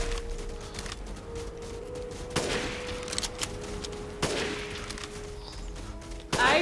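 Sniper rifle fire in the video game Resident Evil Village, a few sharp separated shots over a steady ambient hum and a constant tone, fairly quiet overall with no talking.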